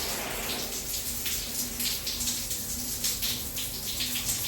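Shower running in a motorway services washroom, a steady close hiss and patter of water spray filling the clip without pause.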